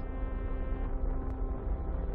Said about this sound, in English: fire up my nuclear engine, and just push ever so gently